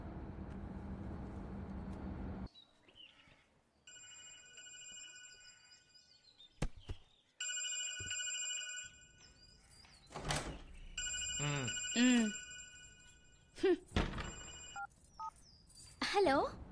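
Film scene of a phone call: a telephone keypad beeps as a number is dialed, then a ringing tone repeats in bursts, with people talking in between and other scene noises.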